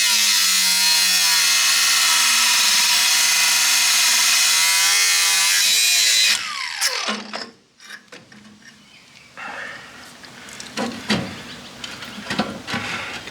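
A power tool cuts off a bolt on a tractor crane, a loud, steady high grinding whine for several seconds that stops abruptly, followed by quieter clanks, scrapes and handling noises of metal parts.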